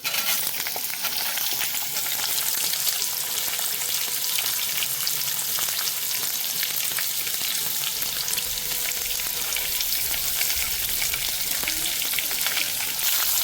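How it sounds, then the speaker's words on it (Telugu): Chopped onions fry in tempering oil for vankaya pulusu pachadi, a loud, dense, continuous sizzle with crackling texture and occasional stirring noises close by. "ఇప్పుడు మనం ఉల్లిపాయ ముక్కలు వేసేసుకుందాం."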